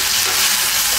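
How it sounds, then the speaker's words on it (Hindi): Frying masala with turmeric and coriander powder sizzles in a steady, loud hiss at close range as spices are stirred in, a brief unbroken burst with no talking. "अब इन सबको मिला लेंगे।"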